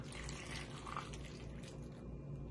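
Half-and-half is poured into a pot of cauliflower, giving a soft, steady liquid trickle and splash that is faint and close, with no talking.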